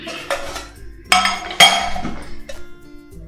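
Oil is added into a pressure cooker with a spoon at a home stove, giving a few close metallic clinks and taps of utensil on pot, separated by quieter gaps.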